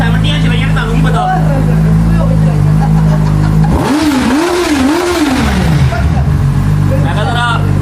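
Loud engine revving in rising and falling bursts from a motorcycle that is not a superbike, over a steady low idle rumble, with people talking throughout.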